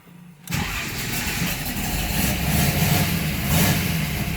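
A 1969 Ford Mustang Mach 1 Cobra Jet, an R-code car, fires up after a short silence, its engine catching abruptly and then settling into a loud, steady, rumbling idle close by.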